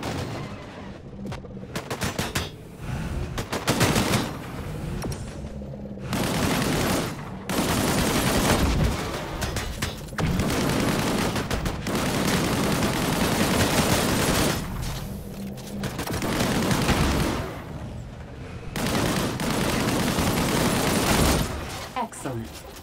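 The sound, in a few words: gunfire from primary weapon in video game Disintegration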